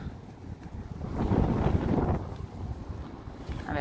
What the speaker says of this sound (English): It is so cold and windy